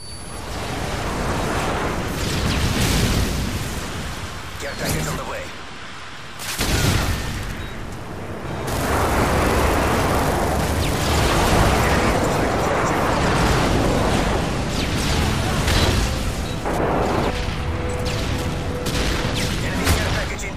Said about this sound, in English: Friendly airstrike on the way.